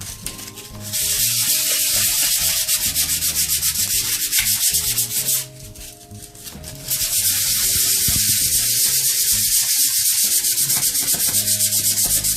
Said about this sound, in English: this stippled paint is now going to be smoothed out with sandpaper so that we have a nice smooth finish